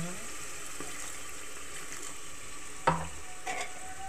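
Masala spices fry in a pan while being stirred in a home kitchen, a steady sizzle under a few scraping stir strokes and clinks near the end.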